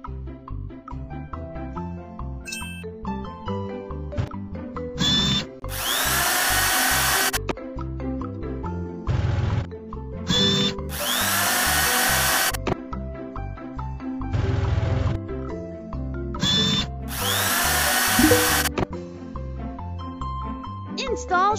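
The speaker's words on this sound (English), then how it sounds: "Install drills." Power drills whir in three long, loud bursts inside a video game, separated by clinking, busy game sounds and chimes.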